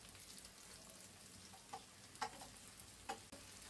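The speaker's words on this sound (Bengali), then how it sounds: "আমি মশলাটা তেলে ভাজা ভাজা করে নিয়েছি" Spices frying in oil with ginger-garlic paste for a rohu fish curry with bitter gourd, a faint continuous sizzle with a few brief crackling spurts and stirring clicks.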